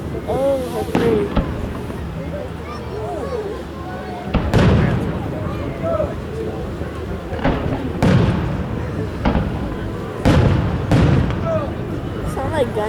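Fourth of July fireworks over South Haven, Michigan in 2014: a string of loud booming bursts at irregular intervals, each with a rumbling echo and crackle, while people chat nearby.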